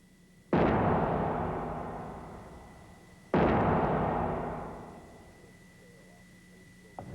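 Two sudden, very loud explosive bangs about three seconds apart as a Boeing 747 wing breaks under test load, each followed by a long rumbling decay, over a faint steady hum.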